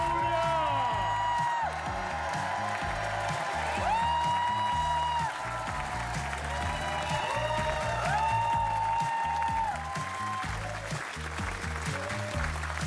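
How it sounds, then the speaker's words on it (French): TV studio audience applauding a Le Bigdil game show winner, a steady wash of clapping and cheering under a host's talk and loud whooping or whistling studio music. "Applaudissements pour Oulia"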